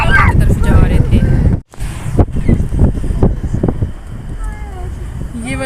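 Strong wind buffets a handheld microphone outdoors in hilly country, a loud steady roar with one brief dropout, while people talk over it and a voice rises briefly.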